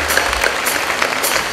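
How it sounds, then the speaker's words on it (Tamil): Audience applause during a live band concert at a star night event, brief uneven clapping with a few sharper bursts, close and fairly loud. "அப்போ அவருக்கு ஒரு பெரிய கரகோஷங்கள் என்று கொடுக்குறோம்."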